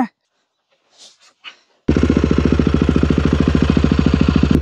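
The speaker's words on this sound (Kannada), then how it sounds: "ಇದು ಬಂದು ಐಡ್ಲಿಂಗಲ್ಲಿ ಸೌಂಡು" A Royal Enfield Himalayan 450 with an aftermarket AEW exhaust, dB killer removed, starts up after a short quiet stretch with faint sounds. It settles into a loud, even, rapid idle thump.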